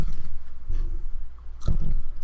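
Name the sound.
chewing chips into the microphone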